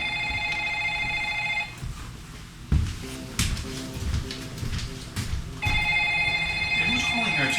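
A telephone rings in a restaurant at night, a steady electronic trill that stops partway through while a voice speaks, then starts ringing again loudly near the end.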